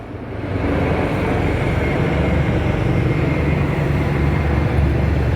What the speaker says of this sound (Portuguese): Olha só um helicóptero passando por aqui.